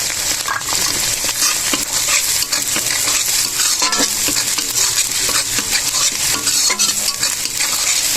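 Thinly sliced onion for mixed rice fries loudly in a pan, a dense, close sizzle broken by repeated scraping and clinking from a stirring utensil, with no talking.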